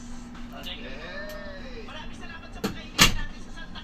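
A heavy metal door on a large 2Go passenger ship thuds shut twice near the end, a softer knock then a loud clank, with an ambient hum and faint tones before it.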